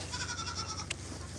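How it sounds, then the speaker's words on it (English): A goat in a hay-filled pen gives a single close, wavering bleat that trails off, with no talk. "Goat. Goat."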